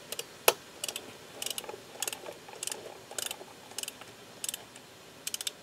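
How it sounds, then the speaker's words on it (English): A torque-indicating ratchet seats a dental implant with a quiet, steady series of small clicks in a slow rhythm, close up and without talk. "I'm going to ratchet that into place"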